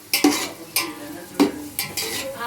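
Chopped onions frying in hot oil in a pan for chicken curry, with a steady sizzle broken by several distinct scraping stirs of a spoon against the pan at close range.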